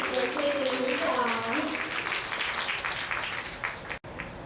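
Guests at the naming and launching ceremony of a 100-ton customs patrol boat built at a shipyard applaud the workers, a moderate burst of clapping under a voice that fades before an abrupt cut.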